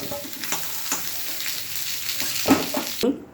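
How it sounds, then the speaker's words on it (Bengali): Potatoes frying in oil in a pan, a steady close sizzle with a few louder scraping stir sounds near the end, no talking. "এবার লাল করে ভেজে নিয়েছি আলুগুলোকে"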